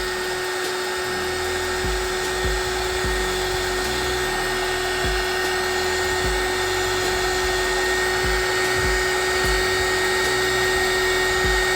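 A hot air tool blows steadily onto candle wax to melt it into a sinkhole, a loud continuous whirring hiss with a fixed tonal whine and no talking.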